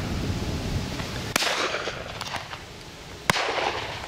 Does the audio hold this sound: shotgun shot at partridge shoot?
yes